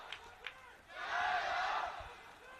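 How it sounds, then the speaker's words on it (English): Crowd at an outdoor blind football final between Argentina and China, a swell of cheering and shouting rising for about a second and fading, after a couple of brief sharp sounds. "So the crowd are in good voice"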